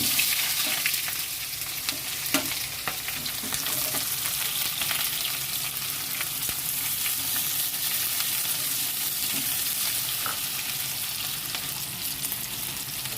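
Onion frying in oil with bay leaf, cinnamon, cardamom and cloves, a dense close sizzle running steadily throughout, with faint scrapes and clicks of stirring and no voices.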